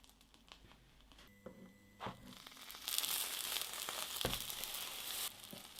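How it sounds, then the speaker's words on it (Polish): Toast with cheese, apple, honey and butter fries in a pan, a soft crackling sizzle that swells louder midway, close and steady with no talking. "No i jedziemy to smażyć."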